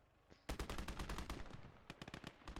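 Rapid machine gun fire in the World War II game Gates of Hell, long dense bursts of loud shots followed by shorter sputtering volleys, with no talking.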